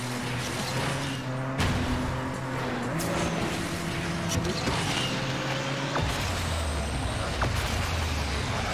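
Car engine revving and accelerating in the Asphalt Legends racing game, tonal engine drones stepping up in pitch through gear changes, with sharp effect hits mixed in, steady and prominent throughout.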